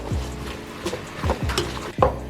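A utensil stirs vegan pasta sauce in a pan with a few scraping, clacking strokes against the metal over a faint sizzle.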